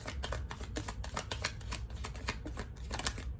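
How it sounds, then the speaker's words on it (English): Tarot cards are shuffled close up in a dense, continuous riffle of crisp paper flutters and slaps, steady throughout. "Let's get one more card regarding that."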